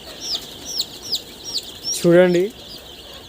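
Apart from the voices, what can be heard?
Sonali breed chick chirping while being held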